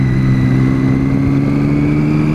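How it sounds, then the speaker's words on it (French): Triumph 675 Street Triple engine running close and loud, a steady mechanical hum with a thin high whine from the gearing held constant throughout. "on a ce petit sifflement qui est bien propre au moteur Triumph"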